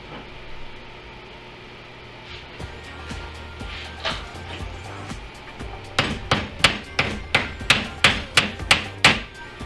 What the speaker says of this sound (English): Back on my bench block with a rawhide mallet.